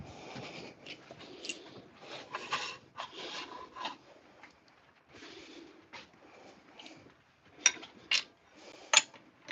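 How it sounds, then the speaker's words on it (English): Hand sanding of wood with fine 400 grit sandpaper, soft raspy rubbing strokes in an irregular rhythm, close and fairly quiet, ending in a few sharper taps or scrapes. "I will go ahead and sand that up all the way. 400 grit later."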